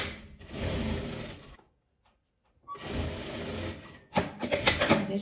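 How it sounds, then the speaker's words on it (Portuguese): A sewing machine stitches a seam on a denim and fabric-scrap pouch, running steadily and close for about a second and a half, falling silent briefly, then starting again with quick uneven bursts. "Vou costurar, vou deixar um espacinho aqui pra desvirar"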